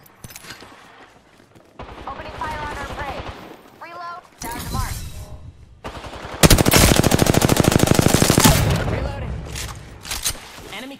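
Automatic weapons fire rattles in rapid bursts during an Apex Legends battle-royale match, with loud sustained volleys and sharp shots, while players call out over the game audio and in-game voice lines.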